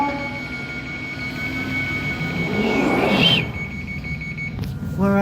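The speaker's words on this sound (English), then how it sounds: "This train is ready to depart." London Underground train on the Edgware service, pulling away from a platform with a building rumble and hiss, a rising whine in the middle and a short beeping door alarm near the end.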